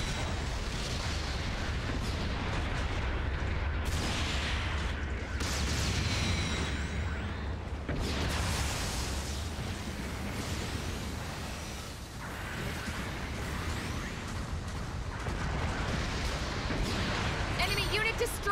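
Bombs hitting a base in a video game: a continuous, loud barrage of booming explosions and rumbling blasts, one after another with almost no pause, thick low-end rumble throughout.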